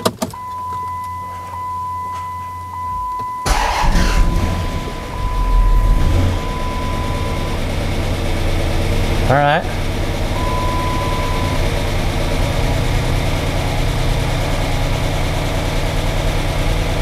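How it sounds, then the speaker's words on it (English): A rebuilt Chrysler Hemi 5.7 V8 in a Chrysler 300 cranks, catches and settles into a steady idle with faint lifter clatter, running loud and close for most of the clip after a short quiet stretch. "Now you may be able to hear a bit of that lifter clatter happening right now."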